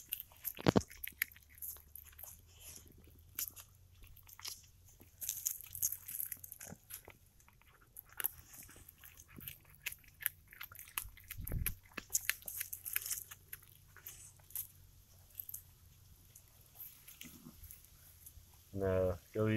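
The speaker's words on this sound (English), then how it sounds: "Here's my little mouser chewing the rat's head off." Wet, crunchy chewing and gnawing sounds from a cat eating a rat's head come in irregular bursts, close up, with occasional rustling and a few brief noises in between.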